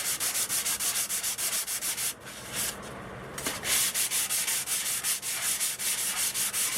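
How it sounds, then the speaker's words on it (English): Rhythmic sanding of a sunflower stalk being shaped into a Native American flute, fast steady back-and-forth rasping strokes close to the microphone, with a brief pause in the middle before the strokes resume. "I'm probably sanding much faster than what you really need to do as well."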